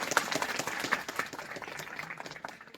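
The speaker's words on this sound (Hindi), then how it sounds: "इनके लिए जोरदार तालियां हो जाए" Applause for the organiser at a school farewell party, a dense patter of many hands clapping steadily at moderate loudness and thinning slightly toward the end.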